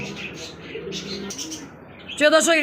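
King pigeons at a pigeon market, with people talking over a soft, low cooing before a brief burst of louder calls near the end.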